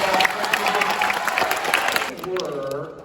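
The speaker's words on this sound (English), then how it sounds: "How about a round of applause for our adjudicators?" Audience applause with some cheering for the adjudicators at a Forum Festivals school music festival, a lively crowd clatter that fades toward the end as a voice begins talking.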